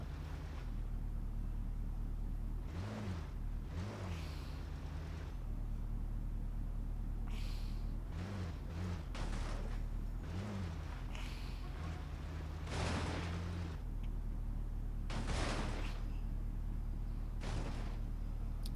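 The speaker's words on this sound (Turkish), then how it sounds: "Lan araba sanki dökülecekmiş gibi sesler çıkarıyor." A steady low engine drone with irregular broadband clatters and thumps of a car in a driving simulator video game rattling and jolting over rough ground.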